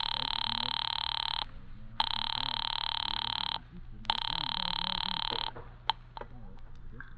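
An old telephone rings in three long buzzing bursts separated by pauses, followed by clicks and short fragments as the line connects. From a 1943 radio drama.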